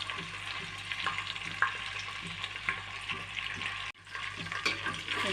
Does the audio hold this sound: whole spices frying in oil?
yes